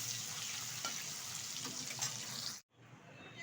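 Live stinging catfish (shing fish) fry lightly in hot oil, giving a steady sizzle and crackle that cuts off abruptly near the end before it resumes more faintly.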